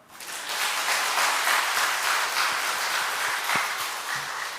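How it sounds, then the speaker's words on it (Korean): Congregation applauding during a Sunday church sermon, a broad wash of clapping that swells quickly and holds steady for several seconds, moderately loud and without voices. "사마리아 여자 박수 한번."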